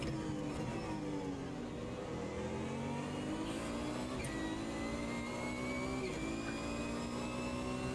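A GT1 race car engine in the Automobilista 2 sim racing game revs repeatedly, pitch climbing and dropping through gear changes, with turbo dump valve chatter between rises; loud and continuous, no voices.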